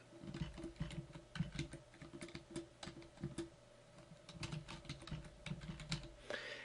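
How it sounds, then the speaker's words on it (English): Fingers tapping out a name on a computer keyboard, a close, quiet run of quick, irregular clicks with short pauses, no talking. "Let's assign her the name Lorna Talbot."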